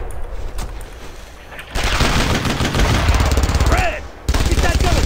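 An MG-42 machine gun rattles out loud, rapid bursts in the World War II shooter Brothers in Arms: Road to Hill 30, with dense battle noise and brief shouted voices between volleys.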